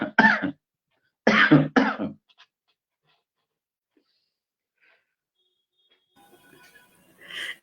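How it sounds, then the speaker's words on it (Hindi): Two performers of a jugalbandi duet with sore throats cough: a brief burst, then a rapid double cough, close and loud, followed by near silence and a faint rustle. "जुगलबंदी के दोनों कलाकार पानी पी रहे हैं, खांस रहे हैं, सब कुछ कर रहे हैं।"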